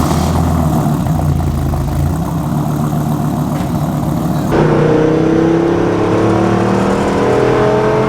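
A Lamborghini Huracan V10 engine revs loudly up close, its dense roar holding steady before a sharp shift midway into rising, sweeping engine tones, with no talking over it.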